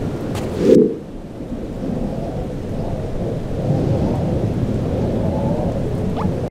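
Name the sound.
rain and thunder in a video game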